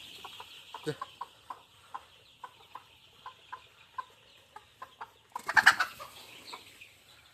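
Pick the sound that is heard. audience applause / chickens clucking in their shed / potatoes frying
chickens clucking in their shed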